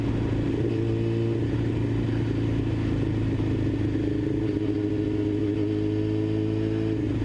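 A Yamaha R6 sport bike engine idling and running steadily at low RPM, close and continuous with a smooth, even drone and a slight rattling clatter, no talking over it.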